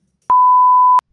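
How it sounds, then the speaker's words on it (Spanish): A single clean electronic beep from an alarm set as an eye-drop reminder, loud and steady for about three-quarters of a second, alone in silence. "tengo una alarma para unas gotas"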